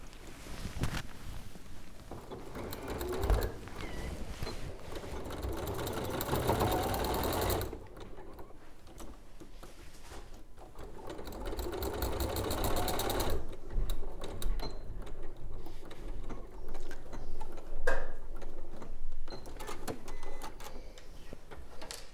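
A sewing machine stitches across quilted fabric for a quilted jacket, with a long close burst of rapid mechanical whirring, a quieter pause, then further shorter runs.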